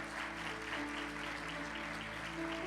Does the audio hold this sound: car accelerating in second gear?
no